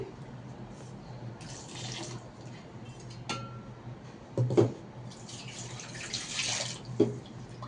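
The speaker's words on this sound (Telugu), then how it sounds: "ఇప్పుడు వాటర్ యాడ్ చేసుకోవాలండి." Water poured into a mealmaker and mushroom curry in a pan, a soft splashing pour in bursts with a few louder dribbles, close by and moderately quiet, with no talking.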